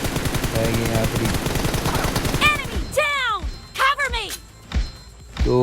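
Gunfire in the mobile shooter PUBG Mobile during an M4 room match plays as rapid automatic bursts, followed by a few sharp separate shots with ringing echoes.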